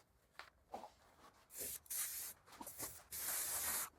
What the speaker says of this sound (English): I'm going to use the silicone lubricant to try and keep the epoxy from sticking to the forms.